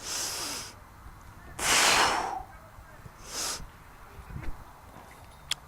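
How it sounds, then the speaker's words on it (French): During a pull-up exercise, a person takes loud, forceful breaths, a long inhale and an exhale plus several shorter bursts, heard close up with quieter rustling between them. "là j'inspire, je vais commencer mon mouvement. Et j'expire sur la montée en fait."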